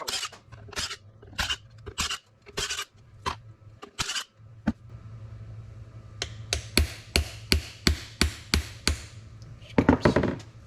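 Metal hammer blows ring out on a 1958 Buick Dynaflow automatic transmission, first in a loose series of sharp close strikes, then a brief pause, then a faster, steadier run of taps ending in a cluster of rapid hits.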